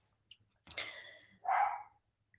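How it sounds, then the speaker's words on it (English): A dog barks twice indoors, faint and somewhat distant: a quick first yap followed by a fuller, louder bark, with quiet around them. "My dog is really going going for it."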